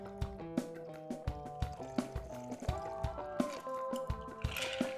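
A whiskey cocktail pours through a Hawthorne strainer and splashes in uneven spurts, with a faint trickle and soft drips, close up and quiet.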